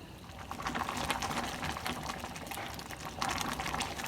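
Rice and chicken pulao simmers in water in a pot on medium heat. The bubbling is steady and close, with soft gurgles and occasional louder pops as the water cooks down.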